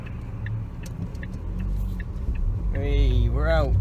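A car passes on the road from the opposite direction, a low rumbling swell of engine and tyre noise rising as it nears, with a person talking over it.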